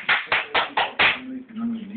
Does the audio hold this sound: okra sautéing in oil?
no